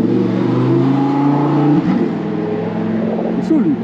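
A Ducati V4S sport motorcycle, a 215 hp V4 without a catalytic converter, revs loud and close with a deep, throbbing engine note that rises and drops over about four seconds.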